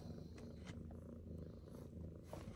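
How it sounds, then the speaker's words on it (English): A cat purrs softly and steadily close by, a low rhythmic rumble that carries on throughout with no talking. "she's just purring away."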